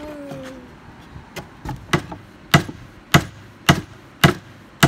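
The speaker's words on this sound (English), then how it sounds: "swinging that hammer all day" A hammer strikes a nail into a wooden wood duck box, starting with a few light, uneven taps, then settling into steady, harder blows that grow louder.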